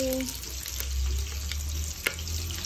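Ingredients frying in hot oil for chicken biryani, a steady close sizzle and crackle with a low rumble underneath and a sharper pop near the end.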